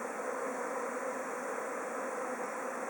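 A honeybee swarm thrown off by a single hive, producing a dense, continuous buzzing drone that stays even and fairly loud throughout with no other sounds standing out.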